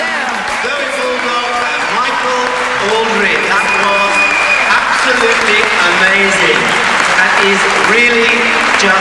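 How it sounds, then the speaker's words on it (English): An audience claps steadily after an adagio skating performance, a dense, sustained wash of applause with music and voices mixed in. "You deserve another round of applause."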